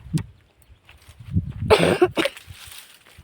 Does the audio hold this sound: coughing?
yes